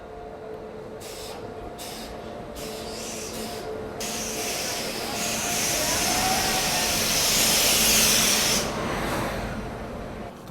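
Duronto Express train at Hapa station: a steady hissing rumble that swells and fades over several seconds, with faint tonal whines and brief clatters over general platform ambience.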